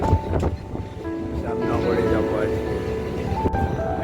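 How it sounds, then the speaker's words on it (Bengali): Rumbling train noise with steady rolling and rising whining tones, as heard from inside a carriage entering Dum Dum station, with voices talking over it. "দমদম স্টেশন ঢুকছে"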